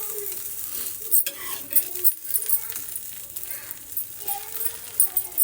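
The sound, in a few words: paneer tandoori cheese sandwich toasting in pan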